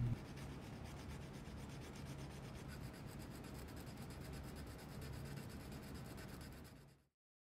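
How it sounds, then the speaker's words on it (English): A metal file rasps against a Hot Wheels Dodge A100 van body, a fast, even run of close scraping strokes that continues for several seconds and then cuts off abruptly. "Trust me, this was a lot of filing."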